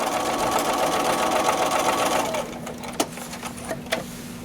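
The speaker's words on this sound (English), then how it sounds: "I'm going to sew a 1/4 inch seam down the long edge" A sewing machine runs steadily, stitching a quarter-inch seam down the long edge of a table runner, with a fast continuous whir that stops partway, followed by a few soft handling clicks.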